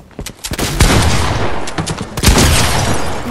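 Gunfire from a shotgun in the Fortnite video game, a rapid series of loud, sharp blasts in two clustered bursts, close and dominant with little else audible.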